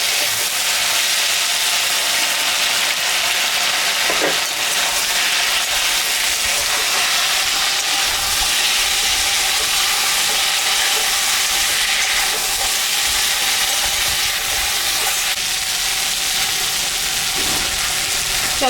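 Dharka and moya fish sizzle in a pan of chorchori with pointed gourd, ridge gourd and potato, a loud, continuous hissing fry running unbroken throughout with faint scrapes here and there.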